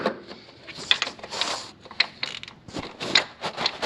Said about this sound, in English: Torque that bolt down, tighten that one.